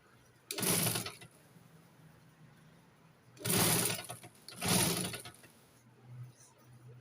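A sewing machine stitches the collar of a frock for a two-year-old girl, running in three short bursts of roughly a second each, with quiet pauses between them.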